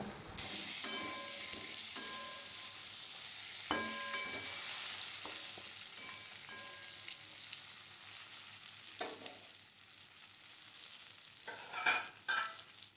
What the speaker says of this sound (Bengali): পটলটা ততক্ষণ ভাজা হোক